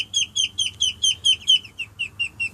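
Ducklings call from their pen in a quick, regular series of high peeping chirps, about a dozen close together, loud and near with no talking.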